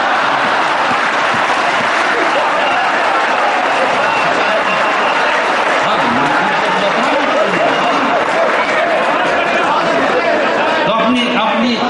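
An audience applauding at a comedy or speech event, dense continuous clapping from a large crowd, loud and sustained throughout with some crowd noise mixed in.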